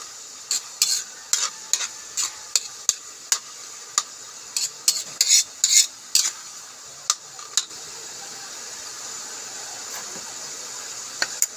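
Sizzling of pancit noodles in a pan with repeated scraping, stirring clatters at an uneven rhythm, then a steadier hiss of frying continuing on its own.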